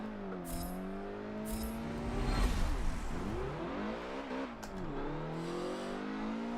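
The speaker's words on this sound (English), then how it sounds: "Mazda MX-5 Super20 round the Top Gear test track." A Mazda MX-5 Super20 in Forza 7 on the Top Gear test track, its engine revving up through the gears with rising and falling pitch sweeps, loud and close, with a brief tire squeal.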